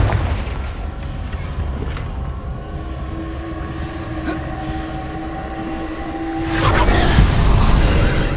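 Confringo fire spell cast in the video game Hogwarts Legacy, a low rumbling bed with tonal hums building to a louder burst of blast noise near the end.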